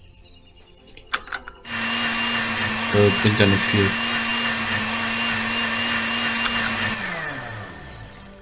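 Kitchen blender in the point-and-click game Deponia Doomsday whirring steadily for several seconds after a few clicks, then winding down, with a brief spoken remark over it.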